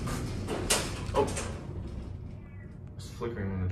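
The door of a Montgomery KONE hydraulic elevator at Dillard's in Park Meadows Mall, Lone Tree, slides open with a few short clunks and a brief mechanical rush, fairly quiet and close.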